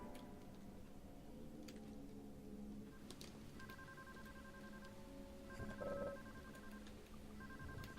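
A telephone rings in Deadly Premonition, its electronic bell repeating in short bursts over a faint, ticking ambient background.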